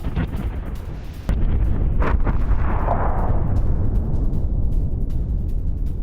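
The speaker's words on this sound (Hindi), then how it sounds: "वीडियो में दिखा है जबरदस्त धमाका।" A sudden heavy blast from a Ukrainian attack in Donetsk booms out, followed by a long low rumble and roaring noise that slowly fades, with wind buffeting the microphone.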